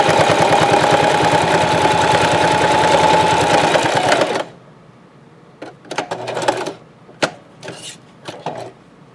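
Sewing machine running a decorative stitch on a Dollar Tree potholder, a steady fast mechanical chatter for about four seconds, then stopping, followed by scattered clicks and handling noises.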